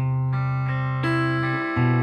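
A sustained electric guitar chord rings out, changing to a minor 6 chord midway and again near the end, clean and steady with no voices.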